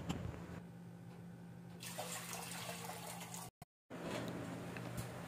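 A litre of water pours into a pot to be boiled for organic chicken soup. A quiet, steady splash swells after a soft start, then drops out briefly and resumes.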